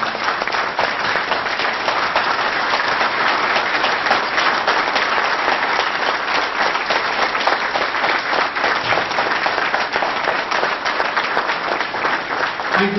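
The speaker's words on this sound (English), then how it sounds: "welcoming Dr. Syed Hameed sir with your rousing standing ovation this evening" Teachers and guests give a standing ovation at a felicitation for Dr. Syed Hameed, principal of IIS Jubail, honoured with a National Award for Teachers. Steady, dense clapping from a large crowd continues evenly for over ten seconds.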